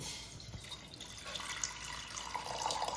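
Tap water running into a kitchen vessel being filled for tea, a quiet steady splashing stream with faint drips throughout.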